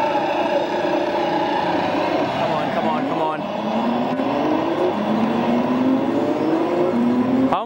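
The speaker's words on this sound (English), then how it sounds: "I'm gonna have a go at the car simulator driving game" A car engine revs and climbs through manual gear changes in an arcade driving simulator, its rising tones sweeping up repeatedly, loud and steady with continuous cabinet din around it.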